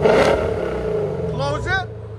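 A 2015 Lexus RC F with a 5.0L V8 and Valvetronic Designs mufflers, exhaust valves open, revs with a deep, loud engine drone, while people talk over it partway through.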